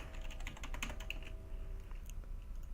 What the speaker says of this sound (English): Well, we'll type it in